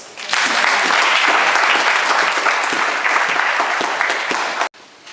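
A church congregation breaks into loud, sustained applause at a sermon, a dense wash of clapping that holds steady for several seconds before cutting off abruptly.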